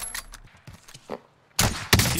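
Warzone gunshots: soft, scattered game noises lead into two loud, close shots about a third of a second apart, each with a bright crack and a booming tail.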